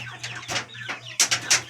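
Japanese Shamo chicks and chickens cluck and peep in short, scattered bursts, with a few sharper calls near the end over a low steady hum.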